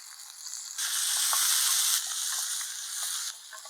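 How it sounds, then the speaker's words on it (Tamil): Small onions and tomato sizzle and fry in a pan, a continuous close hiss that swells in the middle, with faint stirring clicks. "வெங்காயம் லைட்டாக ப்ரௌன் ஆகிற வரைக்கும் வதக்கிட்டு அதோட நம்ம தக்காளி சேர்த்துக்கலாம்."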